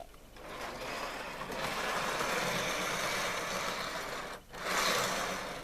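Nine model railway wagons rattle along PVA-glued track behind a rattly locomotive, a continuous loud clattering rumble that briefly dips near the end before swelling again.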